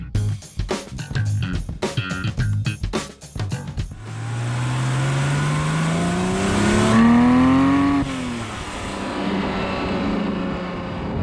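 Porsche GT3 Touring with a manual gearbox accelerating hard, loud close engine revving through rapid gear changes, then a long rising engine pull climbing through a gear before easing off, with wind and road roar behind.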